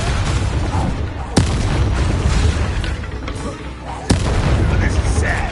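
A Confringo blasting curse in Hogwarts Legacy lands as two sharp, loud explosive bangs a few seconds apart over a rumbling game soundscape and a voice.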